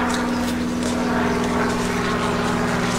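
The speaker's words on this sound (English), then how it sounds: "Got a plane." A propeller airplane drones overhead above a trail section in the Appalachian countryside, its steady engine hum loud and continuous throughout with no talking.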